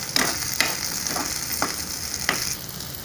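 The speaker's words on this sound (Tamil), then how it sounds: "வெங்காயம் நல்லா வணங்கிடுச்சு." Onions fry in a little oil in a pan, giving a steady close sizzle with several soft stirring scrapes spaced through it and no voices.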